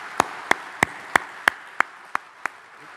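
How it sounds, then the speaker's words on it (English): Audience applause at the NZ Truck Driving Championship awards ceremony: a steady run of about eight crisp, evenly spaced claps rings out over a soft crowd wash, fading slightly toward the end. "show your appreciation to the sponsors and competitors and a round of applause"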